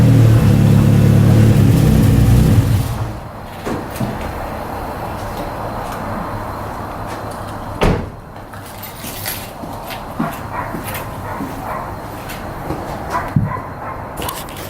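A first-generation GSX car is started inside a garage, its engine loud and rumbling at first, then dropping to a quieter idle with scattered clanks and thuds nearby.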